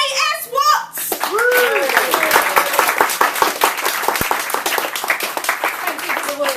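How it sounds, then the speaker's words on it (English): Applause from an audience at a fringe poetry show swells after a brief spoken introduction, sustained dense clapping mixed with cheers and whoops that continues to the end. "Can we have a massive round of applause for J.S. Watts?"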